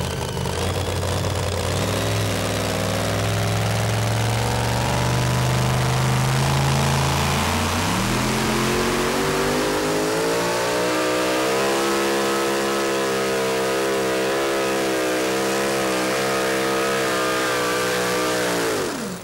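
A modified two-wheel-drive pulling truck revs loud and close on a dirt pulling track, its engine climbing in pitch, dropping briefly, then holding a high sustained roar until it cuts off.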